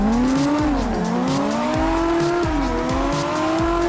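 A BMW E36 and a Nissan Silvia drifting together in CarX, with loud sustained engine revs rising and falling over tire squeal, the pitch sweeping up and dropping with each gear shift.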